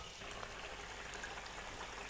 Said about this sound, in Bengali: ফুট ধরে গেছে।